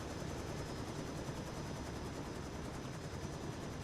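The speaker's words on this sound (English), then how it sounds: "Didn't mean to get back in the helicopter." Steady, continuous rotor and engine drone of an H125 helicopter in a VR game, filling the whole stretch at a constant level with no speech over it.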